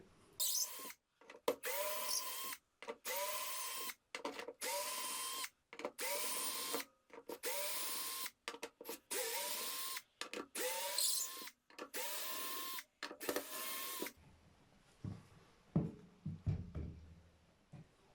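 A Parkside 12V cordless drill driver whirs in a run of short bursts removing screws, stopping and starting repeatedly, then falls quiet into low handling noises near the end.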